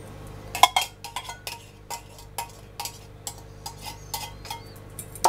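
A utensil taps and scrapes rhythmically against a dish while drained chili verde juice is stirred into green chili enchilada sauce, a steady series of close clinks with no talking.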